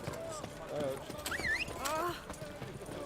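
Horses in The Witcher 3 clip-clop with steady hoofbeats and give a brief whinny, under game dialogue from several voices.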